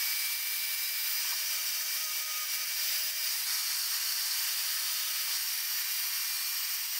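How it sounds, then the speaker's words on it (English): Angle grinder fitted with a flap disc grinding aluminum dirt bike parts, a continuous bright hissing whir with a faint steady tone, even and unbroken for several seconds with no talking. "So what I like to use is a flap disc."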